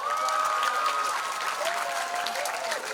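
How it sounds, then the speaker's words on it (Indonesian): Sustained audience applause at a Maulid Nabi religious lecture held in a school, dense steady clapping from a large crowd with a faint voice running underneath. "Tepuk tangan."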